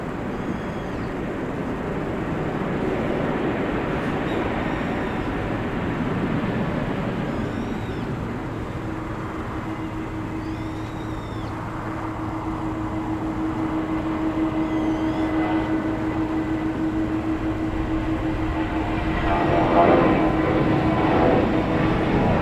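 Airplane coming in to land at Incheon airport in Seoul, a steady broad jet roar with a low droning engine hum that swells slightly toward the end, heard from a distance outdoors.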